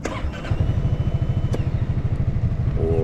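A 2022 Honda Forza 350 scooter engine cranks and catches, then settles into a steady, rapid putter at idle around 1500 RPM, loud and close.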